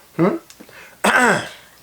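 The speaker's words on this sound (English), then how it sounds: "Notice him clearing his throat." Two rough, voiced throat clearings, the second louder and longer, close to the listener with a brief pause between them.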